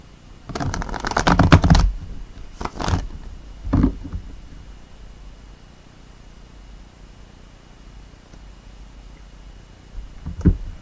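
Tarot cards shuffled by hand in a few quick riffling bursts over the first four seconds, then a long quiet stretch with one brief card snap near the end, close and fairly soft.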